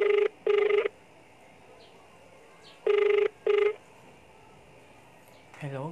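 A telephone rings unanswered in two short double bursts, each trill a bright warbling tone separated by long pauses, fairly close and clear, with a faint voice-like sound at the very end.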